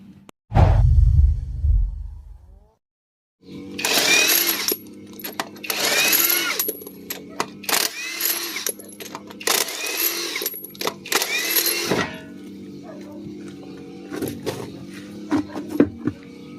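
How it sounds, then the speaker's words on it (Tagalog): Car lug nuts being loosened and a wheel removed during a rack end and tie rod end replacement: a low rumble, then several loud, close mechanical whirring bursts over a steady hum, with no talk. "baklasin muna natin yung mga lug nuts and then tanggalin natin yung gulong"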